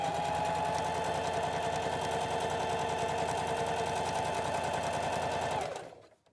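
A sewing machine stitching a fabric face mask runs in a fast, steady mechanical rattle for several seconds, close and loud, then winds down and stops.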